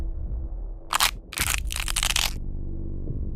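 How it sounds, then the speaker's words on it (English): A horror-story effect of a jaw unhinging: a sharp, close crunching crack followed by a longer wet, squelching burst, set over a low droning bed. "His jaw unhinged with a wet pop."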